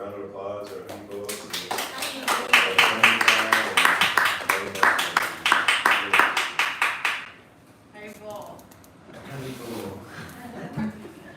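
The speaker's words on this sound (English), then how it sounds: "So please, a round of applause" An audience claps steadily, the applause swelling and holding for several seconds before fading, followed by a brief second patch of clapping.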